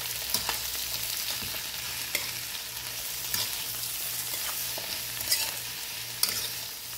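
Seasoning for Guyanese-style ackee stirred in a hot pan, a steady soft sizzle broken by occasional scraping clicks of the spoon, close and fairly quiet with no talking.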